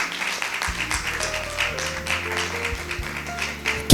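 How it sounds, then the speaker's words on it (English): Audience clapping at a business-of-law panel session, a patchy broadband patter running steadily for about four seconds, mixed with low sustained tones and a louder burst at the very end. "Keep on clapping."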